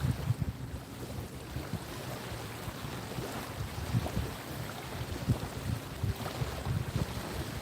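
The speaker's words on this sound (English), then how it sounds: "Problem is the lake is really windy today," Strong wind gusts across an open lake during bass fishing, a steady roaring rush with blustery peaks and low rumbling buffeting, loud and close with no talking.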